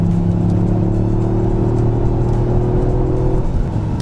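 Toyota GR Yaris Circuit Pack, a 270-horsepower hatchback, pulling hard with a steady droning engine note and rising whir, heard close from inside the cabin with constant road rumble underneath.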